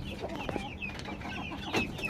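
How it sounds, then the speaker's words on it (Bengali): Hens cluck softly in short, scattered calls from a backyard flock sitting out in strong sunlight, fairly close and quiet, with no talking. "আমার এই মুরগিগুলি লক্ষ্মী।"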